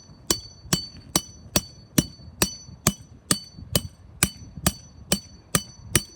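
Hammer blows driving a Stake Boss tent stake into the ground, about fourteen sharp metallic strikes in an even, steady rhythm, close and clear with no talking.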